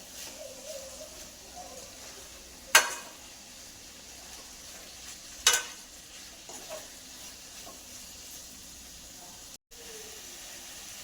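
Washed chicken sautéing in a pan for Chettinad gravy, a low steady sizzle under occasional faint speech, punctuated by two sharp utensil clanks and a brief dropout near the end.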